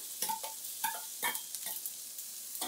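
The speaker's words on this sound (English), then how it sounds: "I'm gonna take the onions and put them in the hot pan" Onions go into a hot cast iron pan for a red chile sauce, followed by a few quiet, separate scraping and sizzling bursts in an uneven rhythm, fairly faint and close by, with no talking.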